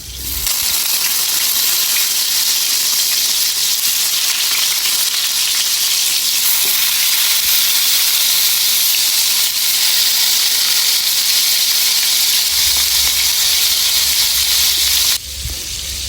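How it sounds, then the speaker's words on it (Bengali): Loud, continuous sizzling of eggplant pieces frying in hot oil, a dense steady hiss close by that cuts off abruptly near the end. "এগুলো আমরা এপাশ ওপাশ করে ভালোভাবে ভেজে নেব"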